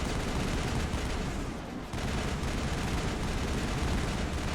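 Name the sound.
gunfire in the video game Mass Effect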